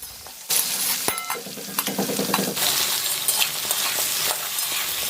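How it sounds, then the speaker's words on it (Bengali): Pumpkin pieces fry in a hot pan with a loud, continuous sizzle that starts abruptly as they go in, followed by repeated stirring clatter close by. "এবার এর মধ্যে কুমড়োগুলো দিয়ে আমি কুমড়োটাকেও দু মিনিটের জন্য ভেজে নেব"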